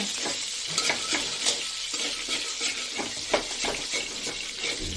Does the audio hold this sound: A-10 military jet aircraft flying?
no